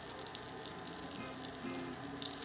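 Low carb apple fritters fry in a pan of hot oil, giving a steady, close crackling sizzle that runs on alone without talk.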